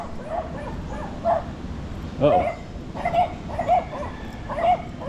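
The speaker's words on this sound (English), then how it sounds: "Barking dogs." Dogs bark and yip in short bursts through a steady hum of background noise, a louder cluster near the middle, with a voice briefly speaking in a residential setting in Dumaguete.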